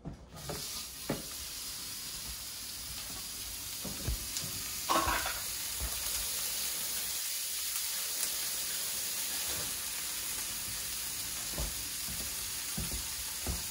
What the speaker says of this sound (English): I'm just gonna quickly render this bacon.